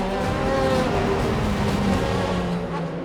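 Pro 2000 race cars pulling away at a race start in Toronto, a dense, loud pack of engines droning and rising together without pause across the whole stretch, up close.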